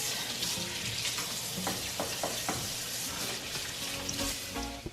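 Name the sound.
washing hands under running tap water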